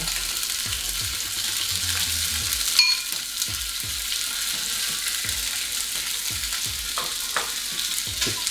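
Carrots and potatoes fry in hot oil with a constant sizzle, broken by repeated soft knocks and scrapes as the vegetables are moved around the pan, plus one sharper clatter.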